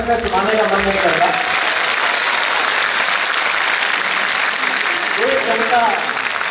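Audience applause at a poetry event held on the birth anniversary of Atal Bihari Vajpayee, a steady dense clapping that fills the whole stretch, loud and sustained with crowd noise and faint voices beneath.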